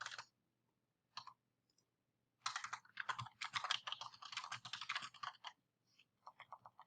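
Typing on a computer keyboard while editing website text: a brief opening burst, a couple of isolated key taps, then a long run of quick close clicks with short pauses, ending in a few scattered taps.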